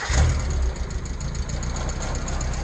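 A Mayco C30HD mini concrete pump's engine starts up and runs at a steady idle, a close mid-pitched rumble with a slight knock that swells briefly at the start and then holds even.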